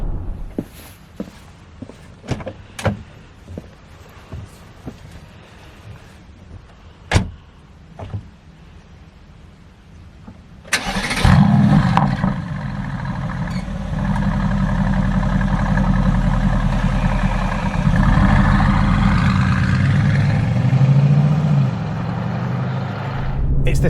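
A 2016 Mercedes AMG GTS: scattered clicks and footsteps, then a sharp engine start with a loud rev flare settling into a deep, steady idle that continues to the end.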